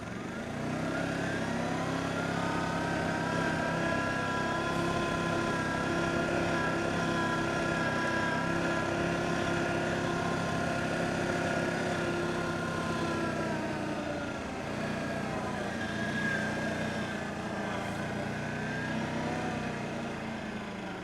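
An Arctic Cat Diesel 700 side-by-side engine runs continuously on a test ride across a field, a steady droning diesel hum with low harmonics that rises and falls slightly as throttle is eased on.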